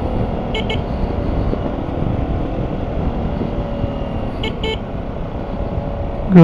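Road traffic on a steep downhill road toward Ölüdeniz, heard from a scooter, with a steady engine and road drone and two short horn toots, one early and one later.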